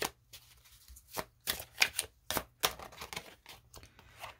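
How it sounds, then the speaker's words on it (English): Tarot cards are shuffled close by in a series of quick riffling bursts, about a dozen papery snaps and flutters at an uneven rhythm separated by short pauses, with no voice. "2 more shuffles, then I'll take the top cards."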